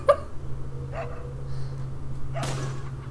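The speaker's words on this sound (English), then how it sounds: "Hey, is that the same dog?" Dog barking in the video game Resident Evil 4, a few separate barks and yelps heard close and fairly loud over a low steady hum, with a sharper burst near the end.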